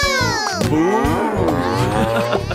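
A voice imitates a cow's moo in a children's Halloween song: long, wavering, drawn-out lowing tones, loud and close, set against the song's backing music.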